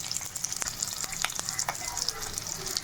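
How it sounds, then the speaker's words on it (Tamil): Small shallots, garlic cloves and a piece of ginger sautéing in hot oil in a pan, a close, steady crackling sizzle with light stirring clicks. "இது ஒரு 2 நிமிஷம் அப்படியே வதக்கிக்கலாம்"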